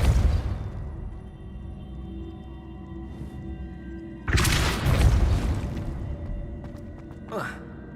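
A Depulso spell blast in the Hogwarts Legacy video game: a sudden loud whooshing boom erupts partway through over a steady droning game backdrop, followed by a fading rumble and a brief swish near the end.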